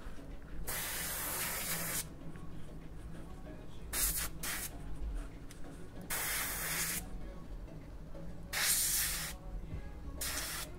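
A compressor-driven airbrush sprays paint onto a T-shirt in repeated hissing bursts of a second or two each, close and steady, separated by brief pauses with a faint hum underneath.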